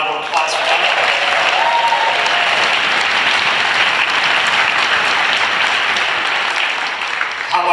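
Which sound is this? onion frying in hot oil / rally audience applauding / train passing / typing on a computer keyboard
rally audience applauding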